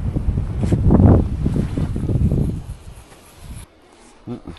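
A strong gust of wind roars across the microphone at a forest lake, building to a loud rush in the first seconds, then easing and dropping away, with a brief faint sound near the end.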